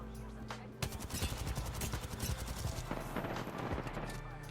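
Rapid gunfire bursts in Apex Legends, with dense repeated shots rattling over a steady game soundscape, fairly quiet overall.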